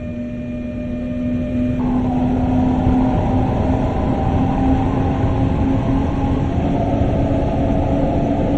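Inside a double-deck passenger coach hauled by a BR 146.2 electric locomotive in Train Sim World, a steady rolling rumble carries on with a sustained whining hum, growing slightly louder after the first couple of seconds.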